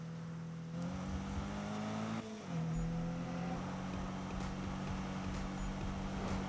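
A Subaru racing in Need for Speed, its engine droning at a steady pitch, briefly dipping and then rising again as it keeps pulling, close and continuous with no talk.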